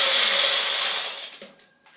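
A cheap bullet blender whirs loudly as it blends a drink, the motor noise steady and close before tapering off near the end, with a few clicks at the finish.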